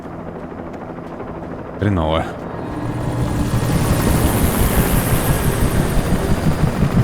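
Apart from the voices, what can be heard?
helicopter in the video game Alan Wake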